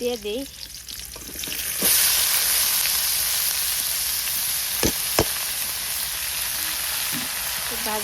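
Fish sizzles loudly in hot oil in a home kitchen pan, a steady hiss broken by a few sharp clinks of a utensil, close and with no talk.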